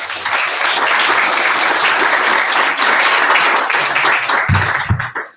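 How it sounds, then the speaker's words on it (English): A room full of people applauding at an event, dense and loud clapping sustained for several seconds before tapering off abruptly at the end, with a few voices underneath near the close. "let's give her a round of applause because she made this location possible"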